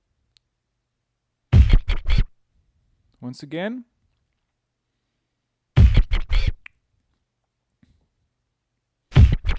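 Turntable scratching of a recorded kick drum followed by hi-hat hits, a drumscratching pattern played as short, loud, close bursts of three or four quick strokes, repeated three times, with a brief spoken phrase between the first two bursts.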